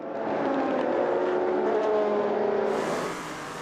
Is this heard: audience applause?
no